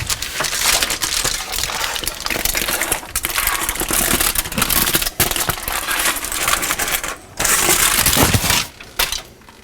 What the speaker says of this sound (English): we're going to use the foil on that pan to roll that up